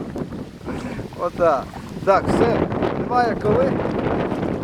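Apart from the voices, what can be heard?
wind while rowing a boat on the Pripyat river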